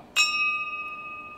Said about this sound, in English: The bell ringing 60 times, once for every boat lost,